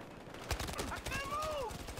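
Rapid gunfire in a first-person shooter video game, a short burst of shots close by, mixed with in-game sounds.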